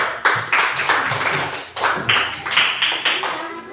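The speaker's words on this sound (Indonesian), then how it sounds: "tepuk tangan dulu" A classroom group claps in a patterned rhythm, bursts of several quick claps separated by short pauses, close and fairly loud.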